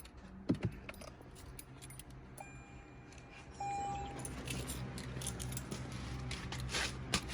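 Car keys jangle and clink in short bursts near the mic during work on a 2015 Lexus IS250, with quiet handling noises in between and no talking.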